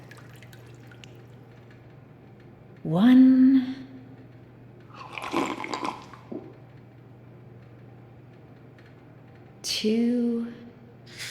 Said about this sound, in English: Now, just 3 sips of water.